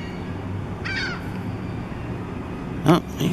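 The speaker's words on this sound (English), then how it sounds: "As you can hear, got some gulls here." Two harsh gull cries ring out against a steady outdoor hum, one brief call early and a louder, closer squawk near the end.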